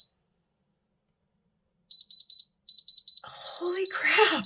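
A handheld diamond tester beeps on a diamond, sounding two short bursts of three rapid, bright electronic beeps, clear and close, followed by a person starting to talk over the end.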